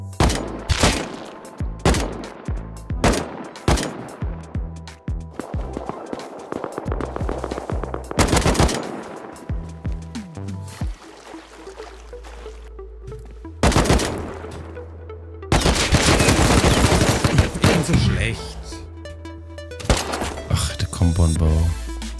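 Rapid bursts of automatic gunfire and single weapon shots in the survival video game Rust, loud and dense, with intermittent volleys, brief pauses and heavier sustained firing toward the end.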